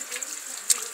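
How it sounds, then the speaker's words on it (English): Garden hose trickling water into the opened upper hose of a C4 Corvette radiator during a cooling system flush, a steady soft hiss of running water with one brief sharper splash near the end. "water hose, just a little more than a trickle going in there"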